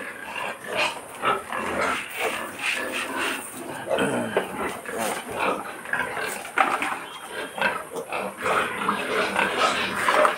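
Pigs feeding on a pig farm, a busy stretch of grunting, snorting and chomping at the feed trough with clattering and scuffling, close and continuous, with occasional shrill squeals.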